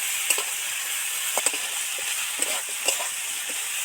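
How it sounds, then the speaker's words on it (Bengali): Vegetables for thor bori khara, a traditional Bengali village dish, sizzle steadily in a pan while a spatula stirs them in a few light scrapes, alone with no talk. "সবজিগুলো তো ভাজা ভাজা হয়ে গেছে"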